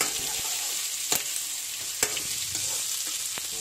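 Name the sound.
chopped onion frying with peanuts for Indori poha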